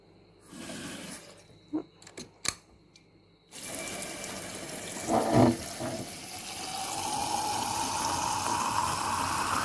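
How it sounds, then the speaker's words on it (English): Water running from a tap into a mung bean sprouting container, a steady rushing pour that starts partway through after a few short knocks and handling sounds, then continues close and fairly loud to the end. "Fill it up with water."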